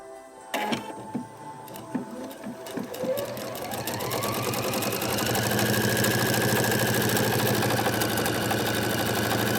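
A sewing machine stitches pet rag quilt squares, starting with a few separate mechanical clicks and short bursts before settling into a steady, close, continuous whirring run of stitching.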